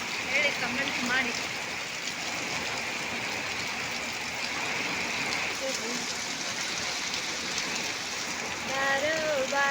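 Heavy rain driven by strong wind in Kembhavi, a steady broadband wash of downpour throughout, with faint voices talking intermittently beneath it.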